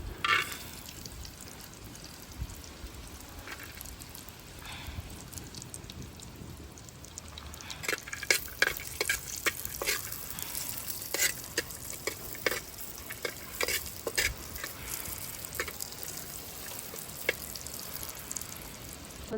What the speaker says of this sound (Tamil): இப்போ நாங்கள் நெய் ஊற்றி அந்த நெய்யில் இந்த முந்திரி பருப்பை நாங்கள் பொறிச்செடுக்க போகிறோம்